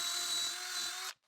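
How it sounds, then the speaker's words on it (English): A power drill pre-drills and countersinks into wood for screws while building a miter saw workbench, a steady close high whir holding for about a second before cutting off abruptly into silence. "I am going to be pre-drilling and countersinking ever so slightly"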